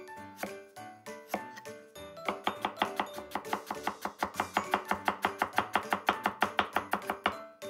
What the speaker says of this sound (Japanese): ニンニクもみじん切りします